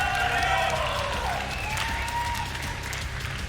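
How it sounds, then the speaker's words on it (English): An arena crowd at a Quake collegiate championship final applauds the tournament champions, steady clapping and some cheering spread wide across the room while a voice talks over it. "I hear a bit of an applause"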